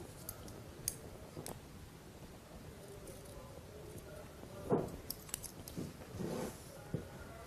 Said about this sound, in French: Et je coupe l'excédent et toujours en biais.